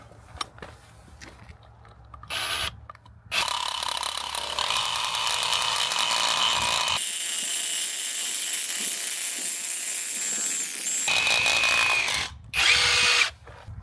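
A ProCraft HD 20A cordless rotary hammer with a 16 mm bit drills into concrete, starting with short blips, then a loud sustained hammering whine that changes pitch partway and ends with a final burst, close up.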